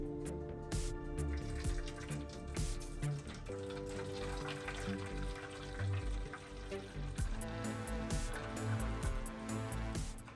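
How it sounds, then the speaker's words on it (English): Hot water pours into a water bath holding four bowls for orange and cinnamon creme brulee, a steady running splash lasting throughout with a few clinks, close and moderately loud. "now I'm gonna add the hot water here"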